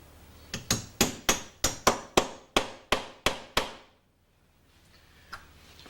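A hammer strikes a punch against a lock to mark a drilling spot: about ten sharp, evenly spaced metallic taps close by, then silence.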